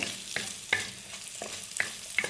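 Shallots sautéing in a pan with ginger and garlic, a steady soft sizzle broken by regular scraping stirs about every third of a second, close and moderately loud with no talking.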